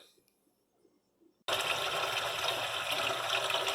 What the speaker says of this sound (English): we get hot water from the faucet